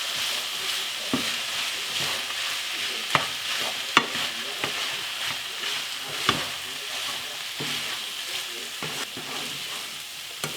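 Mince for shepherd's pie with Worcestershire sauce stirred in over low heat, a gentle steady sizzle with intermittent scraping and clinking of a spoon against the pan, close and without talk.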